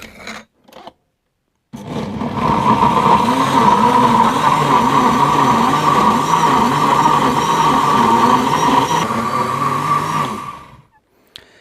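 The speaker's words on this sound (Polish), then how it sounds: "I najpierw to sobie będziemy mielić." A blender grinding peeled coconut in lukewarm water for a smoothie gives a loud, steady motor whir with churning. It runs about nine seconds, then cuts off.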